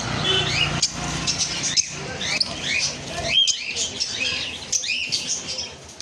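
Lovebirds, lutino and albino varieties, and budgerigars in a bird shop chirp in rapid, overlapping high tweets close by, with brief flutters and a voice talking in the background.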